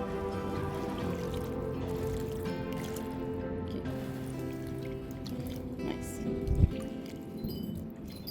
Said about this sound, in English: let's add some water to this.